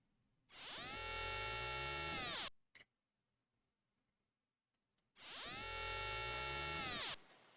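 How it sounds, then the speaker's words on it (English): Two loud, sustained mechanical bursts of a jackhammer in the video game Xenogears, each about two seconds long, separated by a silent gap with a brief click. "Excuse me, could you turn off the jackhammer?"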